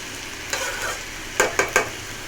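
Malabar spinach (pui shak) frying in a pan, with a soft sizzle broken by three quick, close scraping stirs near the end.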